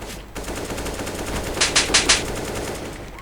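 Rapid automatic gunfire in Counter-Strike: Global Offensive rings out in a short burst of several sharp, loud shots over steady game background noise.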